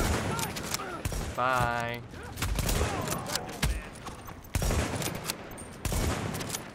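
Gunfire bursts from a third-person shooter video game, The Division, crackling in sharp repeated volleys across the scene, with a player's voice talking over the shooting.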